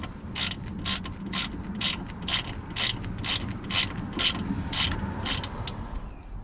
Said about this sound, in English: remove the driver's seat, just for all these T40 bolts.